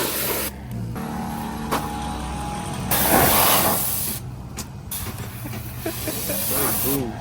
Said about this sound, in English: We're gonna pressure wash the mats, get them all cleaned